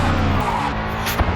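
A racing car in an F1 video game slides and nearly spins, a short burst of tire squeal and skidding over a steady engine note, loud and close.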